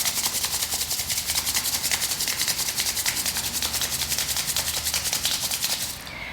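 Hands rubbed briskly together to build warmth during a chakra yoga flow, a steady rapid swishing friction that runs for about six seconds, close and alone, easing off at the end.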